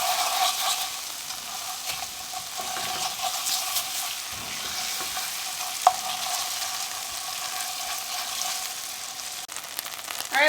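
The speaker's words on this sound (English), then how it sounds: "you're going to add 2 ounces of cream cheese and you're going to get it nice and creamy and melted down" Cream cheese melts with garlic and butter in a pan with a gentle, steady sizzle and a few soft scrapes and clicks, moderately quiet and close, with no talking.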